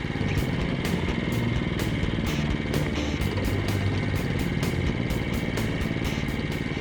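A power rake mower runs steadily on a back lawn pulling out dead grass, its engine a constant near drone with a quick regular ticking from the rotating tines throughout.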